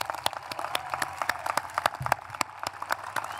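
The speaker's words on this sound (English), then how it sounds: "Please applaud these students." A commencement ceremony crowd applauds steadily, many hands clapping in a dense, even patter that continues throughout.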